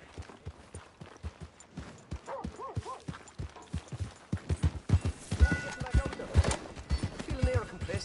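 Horse hooves clip-clop in a steady walking rhythm on a path in Red Dead Redemption 2, close and clear, with a brief whinny and a voice speaking over the trotting.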